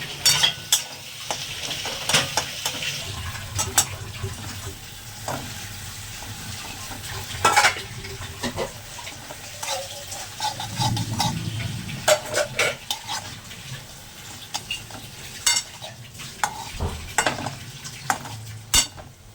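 Bhorta frying in a pan while being stirred, a constant sizzle broken by repeated sharp scrapes and clicks of a spatula against the pan, close and loud, with no talking.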